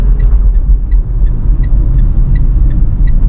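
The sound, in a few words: Mitsubishi Pajero Sport Dakar accelerating from standstill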